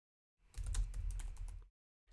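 Quick burst of computer keyboard typing, a rapid run of close clicks lasting just over a second, followed by a brief pause and a few more keystrokes, with no talking.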